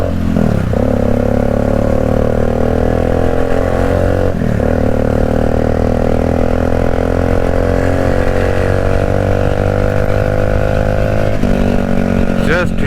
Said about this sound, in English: Just hear the exhaust note,